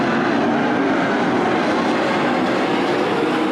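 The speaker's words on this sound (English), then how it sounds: "Stuart Brubaker on the loud pedal." A 410 sprint car engine at Attica Raceway Park roars at full throttle through a restart, a loud, dense, sustained howl that holds steady for several seconds with no talk over it.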